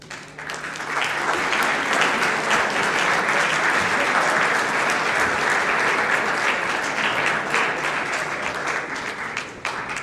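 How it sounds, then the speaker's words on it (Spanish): Sustained applause from a conference audience honouring an engineer at the close of his talk, dense and even clapping that fills the room for the full ten seconds with no one speaking over it. "Un fuerte aplauso para despedir al ingeniero Chan, por favor."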